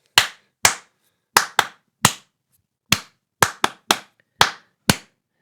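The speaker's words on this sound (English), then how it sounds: "Now you try and clap it." Hands clapping a rhythm in triple 3/4 time, eleven sharp, close claps in an uneven pattern with clear gaps, heard alone in a quiet room.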